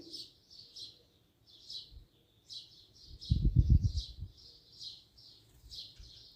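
Birds chirp steadily in quick, high twitters throughout in Saudi Arabia, while a brief low rumbling noise rises midway and fades.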